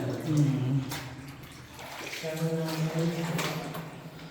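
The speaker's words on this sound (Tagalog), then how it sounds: "Ayan po yung mga tubig." Water flowing and splashing inside Pinagrealan Cave in Norzagaray, Bulacan, a steady close wash of running water with people talking over it.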